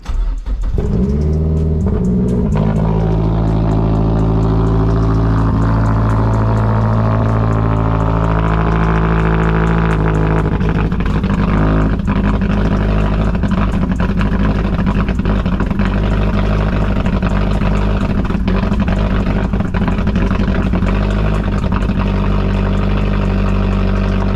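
A turbocharged car engine cranks and fires up from cold, then settles into a loud, steady rumbling idle with a deep, uneven throb, close by and with no voices.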